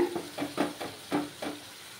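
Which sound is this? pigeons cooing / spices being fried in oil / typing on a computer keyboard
spices being fried in oil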